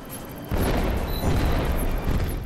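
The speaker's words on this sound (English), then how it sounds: "after the explosion has happened" A deep, rumbling boom of an explosion in the video game 007 Legends, bursting in after a half-second lead-in and rolling on as a dense low roar.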